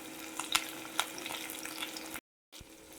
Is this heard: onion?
yes